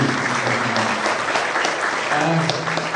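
A crowd at a Jakarta provincial government event with Governor Jokowi gives a loud, continuous round of applause. Many hands clap evenly throughout, with a few brief vocal sounds mixed into the clapping.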